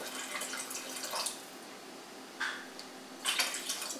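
Water pours and splashes into a pressure cooker while cooking black-eyed peas, a steady close trickle with a few brief louder gushes and drips.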